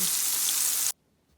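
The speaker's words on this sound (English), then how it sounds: "now I'm going to fry the fish" Bright, steady sizzling of fish frying in hot oil in a pan, close and continuous, cutting off abruptly to near silence.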